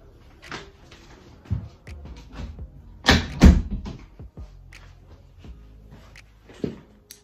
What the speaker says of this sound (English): let me just close my door quickly, my window.